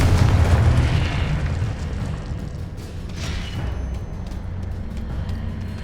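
A Confringo fire spell explosion from the Hogwarts Legacy video game on PC lands as a loud, booming blast at the start, then a rumbling fiery tail and crackling bursts that fade to a steady roar.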